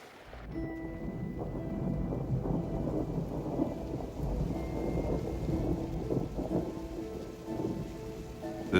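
Spring rain falling steadily over burned Yellowstone land, with rolling thunder rumbling low and long beneath the dense patter for several seconds, no voices.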